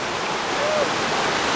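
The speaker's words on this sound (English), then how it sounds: "Let me see if I can get that creek in there." A mountain creek in Oregon's Central Cascades, its close, steady rushing water forming an even broadband wash.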